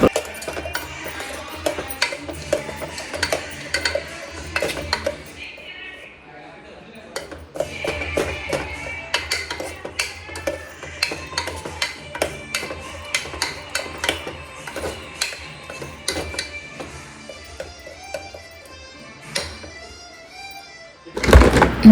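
Tamarind rice (pulihora) being mixed in a vessel, with a steady run of metal clinks, taps and scrapes from the utensil against the pot, moderately close, over a continuous low background.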